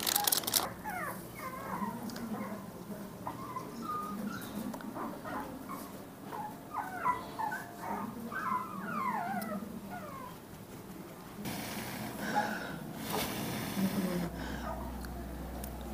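A small Pomeranian puppy whimpers and yelps in a run of short, high, repeated cries while getting its first vaccination, with people talking quietly nearby.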